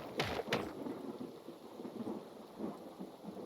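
Thunder during a rainstorm in the Hytale video game, two sharp cracks early on rolling into a low rumble over steady rain, fairly near and moderately loud, with no voices.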